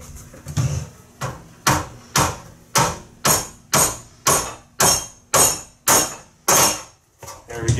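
A hammer flattens rubber grommets for a vintage GE box fan, landing about thirteen firm, evenly spaced blows roughly every half second, close and loud, with a slight ringing edge on each strike.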